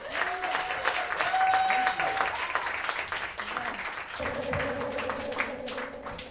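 An audience at a storytelling event applauds a musician with sustained clapping throughout, over tonal background sounds and some voices.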